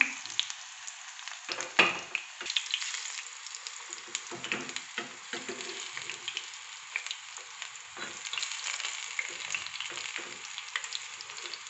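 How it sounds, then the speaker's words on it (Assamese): Pumpkin flowers and night jasmine leaves coated in besan batter frying in hot oil, a steady close crackling sizzle with occasional louder spits and stirring, no talking. "এতিয়া মই মচমচীয়া হোৱালৈকে ভাজিম"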